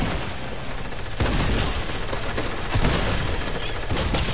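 Rapid automatic gunfire from a Fortnite match roars continuously and loudly, dense bursts overlapping with heavier volleys swelling partway through, no voices on top.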